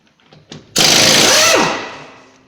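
Air impact gun on a 1968 Chevelle up on a lift, loosening lug nuts torqued to 70 pounds: a single loud, harsh hammering burst of about a second that cuts off and trails away, close by after a few faint clicks.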